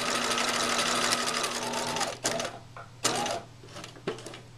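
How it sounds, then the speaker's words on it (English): A sewing machine top stitching runs in a steady, close, rapid whir, then breaks into a few short separate bursts with pauses between them. "We're sewing! And we learned a new thing, how to top stitch."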